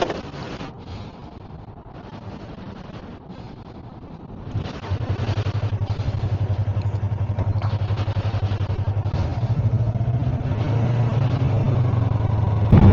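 A Yamaha R3 motorcycle on the road, engine noise low and steady, stepping up to a louder, sustained drone partway through as it gets under way, with wind rush over it and no talk.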